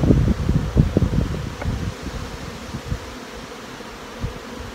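Honey bees hum around an opened hive colony with capped frames, a close, continuous buzz over rustling and low thumps that fade after the first couple of seconds.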